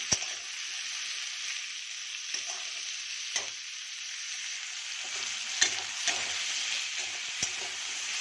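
Onion, green chilli and potato fry in a pan with a constant, even sizzle. Sharp spatula taps and scrapes come every couple of seconds, with no talking.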